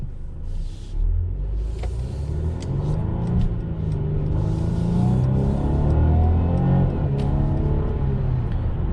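A 2021 Mercedes-Benz C300 coupe with a 9-speed automatic accelerates, heard from inside the cabin as a steady low engine rumble with climbing tones rising through shifts over several seconds.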